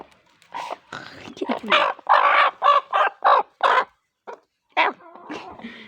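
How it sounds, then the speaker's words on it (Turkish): Chickens cluck in a coop in a series of short, loud bursts close by, with brief pauses between them and a few softer calls near the end. "Şöyle gizli gizli tavukları çekeyim."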